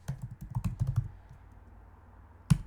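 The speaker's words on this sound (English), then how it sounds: "I just typed in landscaping" Rapid keystrokes on a computer keyboard tapping out a short word, close and distinct, followed by a pause and one firmer key press.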